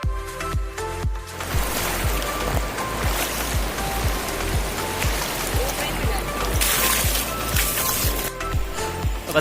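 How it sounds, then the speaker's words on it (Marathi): A stream being waded across on a trek to a waterfall near Kolhapur, steady broadband rushing and splashing water with a regular rhythmic thumping of footsteps, loud and close throughout, with some voices briefly present. "हा आता ओढा जो आहे आपल्याला पार करायचा आहे"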